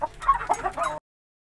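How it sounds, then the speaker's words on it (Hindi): An Aseel rooster clucks in a quick, close, loud run of calls lasting about a second, then stops into silence. "ये वाला मुर्गा भी नहीं समझा रहा"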